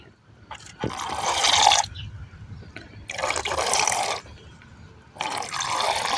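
Freshly milked milk pours into a bucket in three separate streaming bursts, close and fairly loud, with quiet pauses between them.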